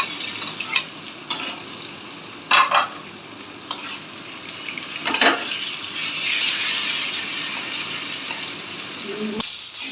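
Taro leaves and chickpeas fry in a pan, a steady soft sizzle with intermittent scrapes and clacks of stirring, close and moderately loud, with no talk.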